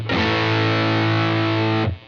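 Lytt Effects Benny the Jet drive pedal cranked to full drive, sustaining a thick, buzzy distorted chord for about two seconds before cutting off cleanly, loud and alone.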